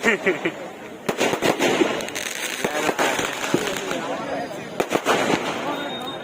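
Firecrackers pop and crack in scattered sharp bursts amid a noisy outdoor crowd at a public program, with people talking throughout.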